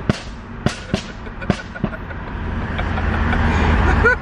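Loud sharp exhaust pops and bangs from a car, a series of about six gunshot-like cracks over the first two seconds before the engine noise swells into a louder rumble.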